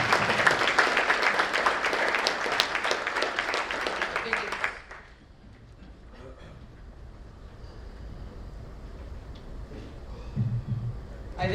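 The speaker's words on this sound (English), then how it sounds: "Let's all give them a big round of applause" Audience applause at an SC Alliance general membership meeting, loud and dense for about four and a half seconds, then stopping abruptly into quiet room noise.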